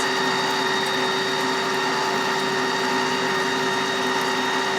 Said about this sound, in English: This is why we have a 5 horsepower motor.